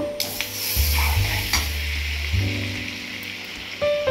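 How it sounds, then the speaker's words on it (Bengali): Butter sizzles in a hot kadai for butter chicken: a bright frying hiss that flares as the pan is stirred, with a few low knocks of a utensil, close and fairly loud. "এদিকে আমার কড়াই গরম হয়ে গেছে, এর মধ্যে আমি এবার বাটার দিয়ে দেব।"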